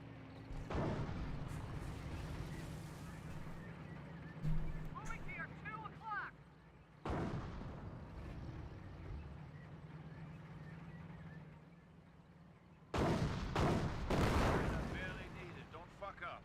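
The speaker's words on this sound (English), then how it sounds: "mortar hit there" Mortar shells explode in the Company of Heroes World War II strategy game, a few heavy bursts standing out against a steady din of battle while someone talks.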